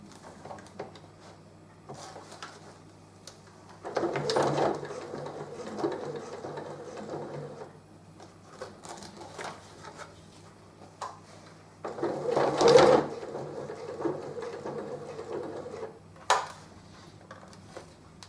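A sewing machine stitching over a line on a fabric Nerf blaster drop-leg holster, running in several short bursts with quiet pauses between, close and moderately loud.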